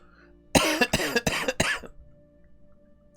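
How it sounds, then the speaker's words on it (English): A sequence of four loud, close coughs in quick succession, coming one after another over about a second, with near silence and faint room hum afterward. "that cough was probably loud"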